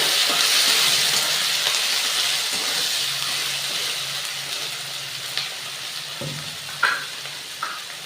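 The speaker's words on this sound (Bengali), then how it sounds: "পেঁয়াজটা দিয়ে দিলাম, পেঁয়াজটা ভাজা ভাজা হবে।" Onion slices frying in hot oil in a home kitchen while cashew chicken is being made: a steady close crackling sizzle with occasional louder pops and a few clinks of utensils, no talking.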